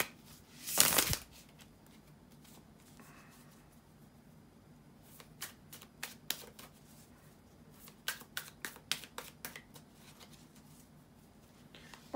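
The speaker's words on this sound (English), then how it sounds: "bear with me a second, guys, to shuffle the tarot cards" Tarot cards being shuffled by hand, with one loud riffle early on, then bursts of soft rapid card flicks and snaps, close and quiet with no talking.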